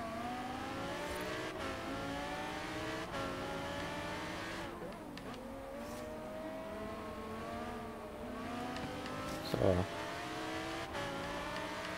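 Car engine roaring inside the cockpit in the racing game Forza Horizon 3, a sustained revving drone with rising and falling pitch as gears shift, steady and fairly close throughout.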